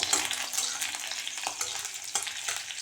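Chopped garlic and chili fry in oil in a wok, giving a steady, close hiss of sizzling with occasional scraping stirs and no talking.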